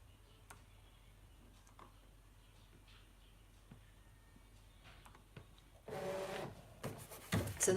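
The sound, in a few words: ScanNCut cutting machine doing half cut for rhinestone template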